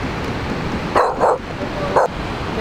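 A puppy gives three short yipping barks, close by, over steady outdoor background noise at a California beach.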